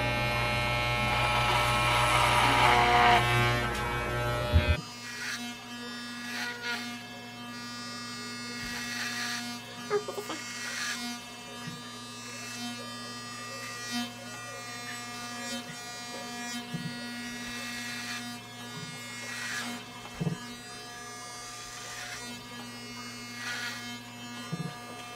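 Conair electric hair clippers buzz steadily while cutting a man's hair at home, starting loud and close and then dropping to a softer continuous hum with small bumps as the blades move through the hair.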